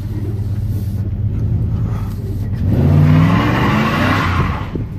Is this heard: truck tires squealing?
yes